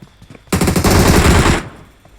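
A gun fires a rapid burst of around a second in a video game, loud and close, with sharp repeated shots that start abruptly and then stop, followed by a brief quiet tail.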